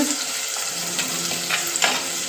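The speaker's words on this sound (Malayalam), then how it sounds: "അങ്ങനെ എല്ലാം കൂടെ നമുക്ക് ഇട്ടൊന്ന് വഴറ്റിയെടുക്കാം." Garlic, shallots, green chili and curry leaves sauté in hot oil with a steady, close sizzle, broken by a few soft stirring scrapes.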